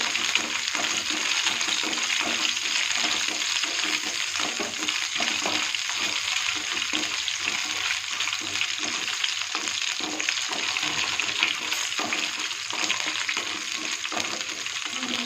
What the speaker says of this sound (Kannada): ನಂತರ ಬ್ಯಾಡಗಿ ಮೆಣಸಿನ್ಕಾಯಿ ಒಂದು 5 ಅದು ಕೂಡ ಹಾಕಿ ಅದರಲ್ಲಿ ಫ್ರೈ ಮಾಡಬೇಕು.